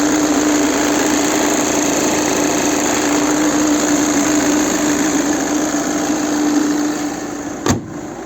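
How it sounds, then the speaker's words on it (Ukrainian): Webasto parking heater hums steadily inside a 2013 VW Touran Life 2.0 TDI, a continuous even drone with a faint high whine that holds for several seconds before a brief knock near the end. "Вебасто в нас гуде, вебасто стоїть у нас тут."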